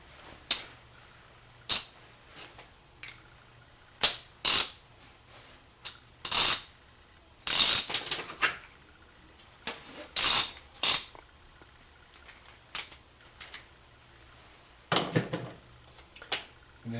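Small metal parts being threaded and fitted into a Kohler K321 carburetor during a rebuild, heard as sharp, intermittent clicks and ratcheting ticks at irregular intervals, close and fairly loud against near silence.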